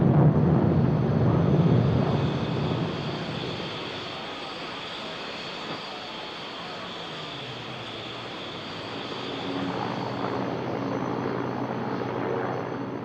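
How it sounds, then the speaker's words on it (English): A single American B-1 intercontinental bomber makes a flypast at the RAF Fairford air show, its loud broad engine roar strongest at first, easing in the middle and swelling again toward the end. "in the flypasts, a single American B-1 intercontinental bomber"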